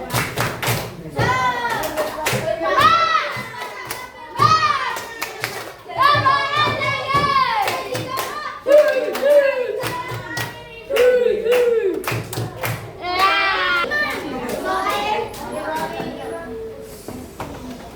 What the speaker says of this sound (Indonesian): Sebelumnya kita tepuk semangat dulu yuk. Tepuk semangat.